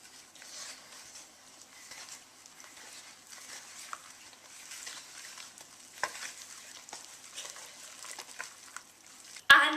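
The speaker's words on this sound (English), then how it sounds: "Grab a large spoon and mix thoroughly until all the ingredients are well combined and there are no lumps." Carrot cake batter being mixed with a large spoon in a bowl, soft continuous wet stirring and scraping, quiet and close, with a louder knock at the very end.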